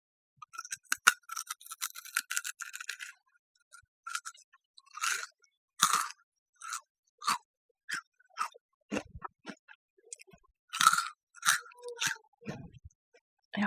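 A crunchy potato chip being bitten and chewed close up, with a quick cluster of crisp crackles followed by a steady series of separate crunchy bites and chews, no talking.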